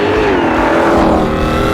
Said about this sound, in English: It's got a really throaty sound. On acceleration, you know you're driving a sports car.